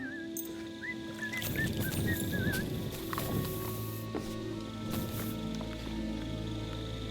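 A dog whimpers and whines in the medieval role-playing game Kingdom Come: Deliverance II, giving short high wavering cries near the start over a low ambient bed with scattered thumps.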